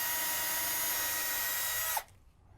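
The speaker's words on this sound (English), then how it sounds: "using a 7/64 drill bit, we're going to drill out just the front and the back hole" A small power drill with a 7/64-inch bit whines at high speed for about two seconds while drilling a mounting bracket hole, then stops abruptly, leaving near silence.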